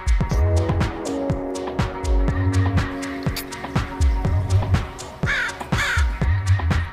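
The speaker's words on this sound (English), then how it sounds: "Crow" A crow caws loudly and close in a repeated series of harsh calls, about a dozen in quick rhythmic succession with no other sounds.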